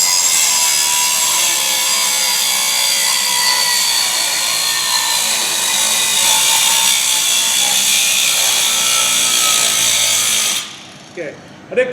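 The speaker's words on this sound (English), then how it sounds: "So I'll do a cut with a cutoff wheel here." An angle grinder's cutoff wheel makes a 90-degree cut, a loud, sustained high-pitched whine and grinding screech close by for about ten seconds before cutting out, followed by a few faint knocks.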